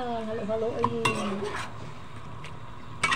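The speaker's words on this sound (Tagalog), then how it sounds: "So ayan, haluin na siya. Haluin." Pork kinamatisan being stirred in a cooking pan, with a utensil scraping and clinking against the metal in short bursts over a soft sizzle, a voice briefly heard early on.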